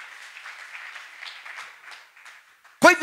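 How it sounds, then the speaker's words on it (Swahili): A church congregation bursts into applause, a short dense burst of clapping at the end after a thin, distant-sounding preacher's voice. "Pigia Yesu makofi kwa ajili ya hayo"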